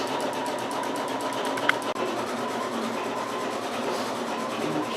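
A sewing machine runs nonstop doing free motion embroidery for free-standing lace, a fast, even stitching rattle held close with one small click partway through.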